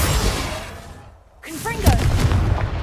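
A Confringo fire spell in the video game Hogwarts Legacy goes off as a heavy booming blast that fades into a quiet dip, then further thuds and whooshes follow, with a voice shouting over the action.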